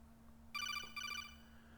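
A codec call rings in the Metal Gear Acid video game: two short bursts of bright electronic trilling, separated by a brief gap, over a steady low hum.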